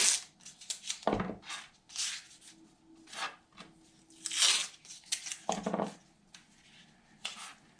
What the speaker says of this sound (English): Thought I might just throw some tape down.